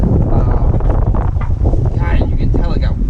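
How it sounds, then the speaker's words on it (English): Strong wind buffets the microphone outdoors during work on a BMW E53 X5, a loud continuous rumbling roar with gusty fluctuations and a voice talking partly under it. "you can tell it got windy"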